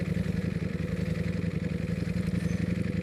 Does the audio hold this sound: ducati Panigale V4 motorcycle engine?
yes